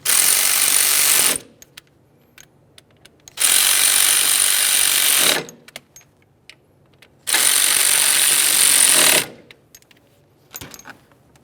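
A power tool drives a T20 Torx fastener on the air ride suspension compressor of a 2011-2021 Jeep Grand Cherokee, firing in three loud, close bursts of about two seconds each with quiet gaps and small clicks between them.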